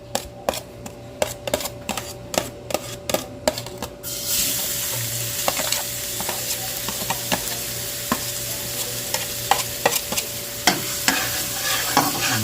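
Lots of garlic goes into hot oil: a few sharp taps and clicks, then an abrupt burst of loud, continuous sizzling with periodic stirring scrapes, close and without talk.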